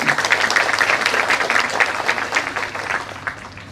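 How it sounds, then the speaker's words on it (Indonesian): An audience at a Kenduri Cinta gathering in February 2023 gives a burst of applause, moderately loud and uneven with scattered individual claps, trailing off slightly toward the end. "Tepuk tangan sekali"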